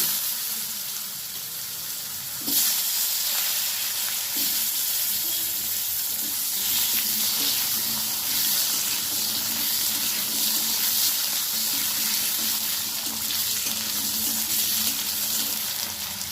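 Potatoes drop into hot oil left from frying fish, with black cumin seeds already in it. A loud, steady sizzle jumps up as they go in and keeps crackling close by, with no talking.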